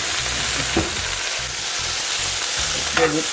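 Jamaican-style brown stew fish cooks in a colorful pot, a steady bubbling sizzle with intermittent knocks and stirs, close and fairly loud, no talk.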